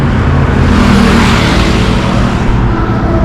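Morning road traffic on the way from Rishikesh toward Jim Corbett National Park gives a steady, close wash of engine and tyre noise throughout, without a clear single pass-by.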